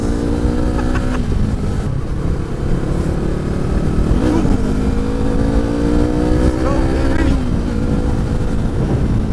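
Yamaha MT-03 naked motorcycle engine droning steadily and loudly with rising pitch sweeps as it revs through gears on a ride, with someone speaking over it.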